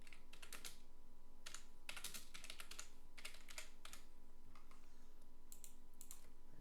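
Soft, quiet typing on a computer keyboard entering text into a web form, scattered clusters of keystrokes with irregular gaps over a faint steady hum.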